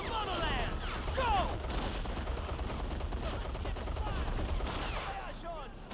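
Gunfire from a Men of War battle, rapid bursts and scattered shots crackling continuously in a dense, busy soundscape, with shouted voices mixed in.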